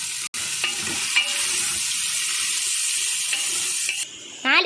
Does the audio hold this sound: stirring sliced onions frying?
yes